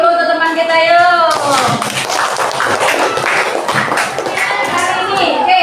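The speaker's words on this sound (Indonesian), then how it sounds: "Kita kasih aplaus dulu untuk teman kita yuk." A school class applauds a classmate with a steady burst of clapping hands from many children. A voice speaks first, and children's voices mix into the claps.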